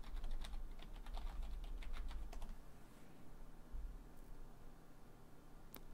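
A password typed on a computer keyboard during a Manjaro Linux setup, a quick run of soft, close key clicks fading to a few scattered taps over quiet background hiss.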